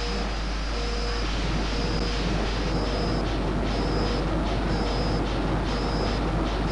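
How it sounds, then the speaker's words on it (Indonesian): A ship's main engine in an engine room simulator runs at dead slow, about 40 RPM, giving a loud, steady droning roar with faint regular pulsing from the pistons. "adalah suara dari torak"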